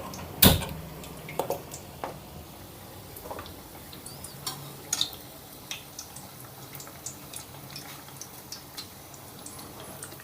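Madatha kaja pastries frying in hot oil on a low flame while the oil is stirred, giving a soft continuous sizzle broken by a sharp knock near the start and light scraping clicks throughout.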